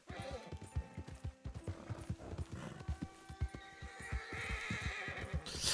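Horse ridden through a forest near a small stream in Red Dead Redemption 2, rhythmic hoofbeats throughout with neighing and snorting above them, fairly close and moderately quiet.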